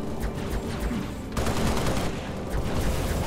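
Sustained volleys of rapid gunfire in the Halo: Reach video game, loud and close, with a dense unbroken barrage that swells even heavier about halfway through and again near the end.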